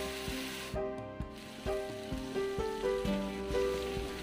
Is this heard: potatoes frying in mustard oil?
yes